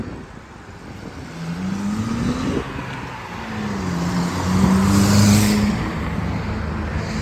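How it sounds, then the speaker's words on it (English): A loud car with a worn muffler drives past on a city street in East York, a rough engine drone that swells and fades as it passes at moderate distance, with no talking. "I think that guy's due for a new muffler"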